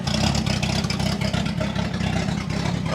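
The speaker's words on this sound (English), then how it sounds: "man, that exhaust sounds terrible." An old 1966 International pickup truck, abandoned for decades, runs with a rough, poorly adjusted carburetor and bad exhaust, a loud continuous low rumble close by.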